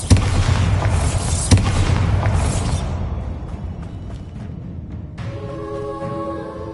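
A Bombarda blasting spell detonates in Hogwarts Legacy on PS5, a loud booming explosion with a sharp second crack, then a rumbling decay into lighter game ambience with a tonal chime near the end.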